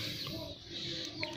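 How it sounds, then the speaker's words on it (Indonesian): Bangkok breed rooster, a year-old male, clucking and murmuring close by in a short, steady burst over continuous background noise, with a brief sharper note near the end. "Ayam jantan alias ayam jago."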